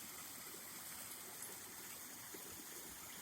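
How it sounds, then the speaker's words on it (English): Water flows out of beaver dams along the Continental Divide Trail in Colorado, a steady, soft rushing and trickling stream heard alone at a constant low level. "Here's the water coming out of the beaver dams."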